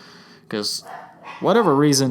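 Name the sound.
dogs barking at the front door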